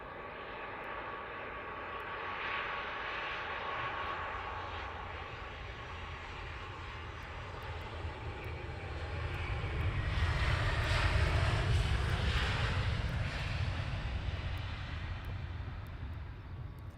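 A Wizz Air airliner at Luton Airport gives a steady, broad jet engine roar that builds toward the middle as it draws nearer, then stays loud and sustained.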